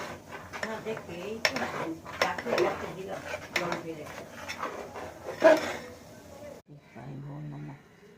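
Metal utensil scraping and clanking against a cooking pot while food is stirred, with the bottom starting to stick, in a home kitchen; irregular close clatter runs throughout under people talking, then quiets near the end.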